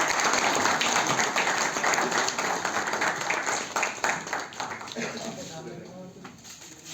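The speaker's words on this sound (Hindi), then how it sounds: "जोरदार तालियां दीजिए।" A large audience claps loudly and steadily, the applause thinning and tapering off toward the end, with some voices mixed in.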